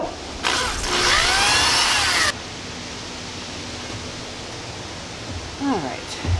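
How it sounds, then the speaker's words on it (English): Power drill boring a hole in wood for a bread shelf, a steady loud whirring burst of about two seconds, followed by quieter room noise and a faint squeak near the end. "you're going part way down and then lifting up, which pulls out some of the sawdust from drilling"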